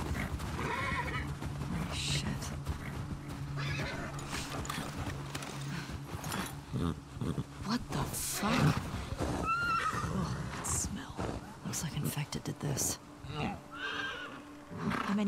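Horses whinny and neigh while hooves clip-clop in The Last of Us Part 2, mixed with other game sounds and people talking over them.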